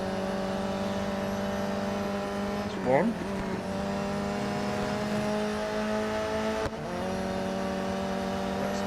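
Race cars in the Real Racing 3 video game whining with steady engine tones, one brief tire squeal or rev sweep as a car is overtaken on the last lap, with someone speaking briefly over it.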